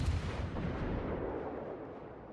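Heavy 203mm naval guns on a Tulsa cruiser in World of Warships fire shells, a booming low-heavy blast at the start that rolls into a long rumbling decay, loud and close with no talk.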